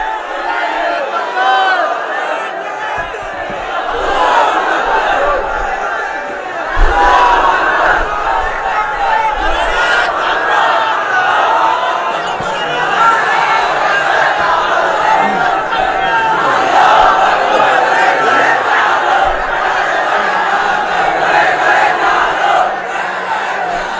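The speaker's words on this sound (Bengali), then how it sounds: "স্লোগান লাগবে। স্লোগান দেন একজন।" A large crowd at a religious sermon gathering chants slogans in loud, massed unison. The roar is sustained and dense for the whole stretch, with rhythmic swells and a few sharper peaks.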